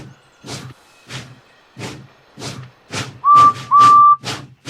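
Rhythmic chuffing of Edward, a steam engine, beats evenly and close by, and near the end two short, loud whistle toots sound over the puffing.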